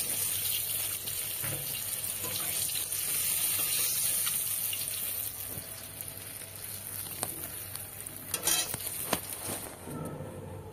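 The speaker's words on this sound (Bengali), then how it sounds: "এখানে আমি কালো জিরে ফোড়ন দিচ্ছি।" Black cumin (nigella) seeds are tempering in hot oil in a pan that was just used to fry small fish, giving a steady, moderately loud sizzling hiss with a few brief crackles toward the end.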